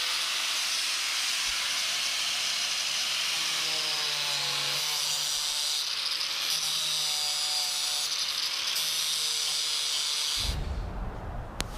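An angle grinder whines loudly and continuously with a harsh hissing edge as it cuts through plastic bumper tabs on a Mazda Miata, stopping at the end with a thump.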